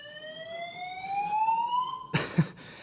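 A fire alarm sounds in a conference room during a finance lecture, a loud steady rising electronic tone lasting about two seconds before cutting off into brief clatter.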